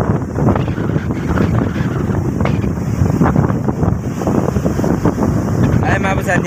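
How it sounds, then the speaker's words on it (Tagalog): Strong gusting wind during a typhoon roars loudly and continuously into the microphone, with buffeting rumble and hiss, and someone talks over it. "Malakas talaga hangin. Sipol ang hangin."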